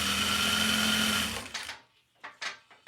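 A sewing machine stitching fabric anklets, running loud and steady for about a second and a half before stopping, followed by a few brief close handling noises.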